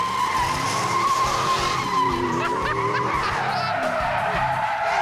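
Roush Stage 3 Ford F-150 pickup truck accelerating hard with its tires squealing, a loud sustained screech with engine roar, close by.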